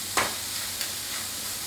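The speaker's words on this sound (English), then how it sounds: "In with a tomato. Let's just give that a little quick stir around there." Tomato fried in a pan for Thai scrambled egg sizzles softly and steadily, with a couple of quick scrapes as it is stirred.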